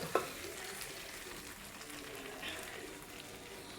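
Chicken masala fries steadily with rice in a pot, a soft continuous crackle with a brief clink near the start.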